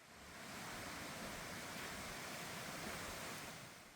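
Water in a mountain valley stream on an autumn trekking trail near Wonju flows with a steady, even rush. The sound is soft and continuous, fading in and out gently.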